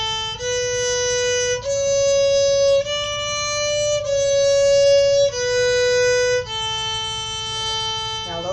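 A solo violin plays a practice exercise in quarter notes, eighths and triplets with low second finger, each pitch held steadily before moving to the next, close-up with no talking.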